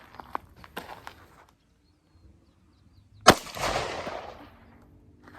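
A single sharp black powder 9mm gunshot cracks loudly up close, followed by a long rumbling decay, after a few faint clicks and handling sounds.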